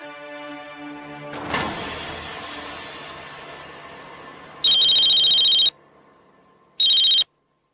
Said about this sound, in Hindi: मैं मानव को फोन करती हूँ